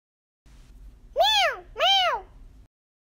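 An imitation of a catbird's call: two rising-falling mewing calls like a hungry cat, loud and close, over a faint low rumble.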